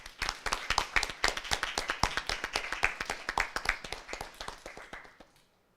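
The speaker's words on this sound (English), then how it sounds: "Clapping is in order." Delegates at a model UN closing ceremony clap after a resolution passes, sharp, distinct handclaps from a modest group, fairly close, that keep a quick, uneven rhythm and then taper off.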